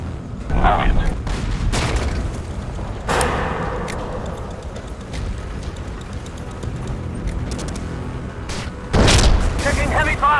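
Heavy gunfire and booming explosions pound a base in the real-time strategy game Command & Conquer, dense overlapping bursts and blasts filling the whole stretch, with a sharp louder impact near the end.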